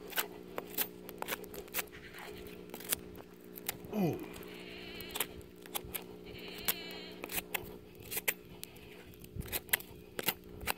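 A Cold Steel Master Hunter knife scrapes a wooden stick in a run of short, quiet, rasping strokes, repeated at an uneven pace, with a brief squeaky sweep partway through and no speech.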